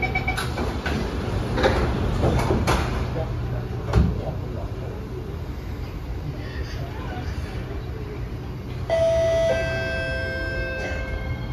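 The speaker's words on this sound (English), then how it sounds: "doors are closing." A multi-tone door closing chime on an SMRT East West Line train (Kawasaki & Nippon Sharyo C751B) at Bugis, sounding near the end over steady cabin rumble and background voices.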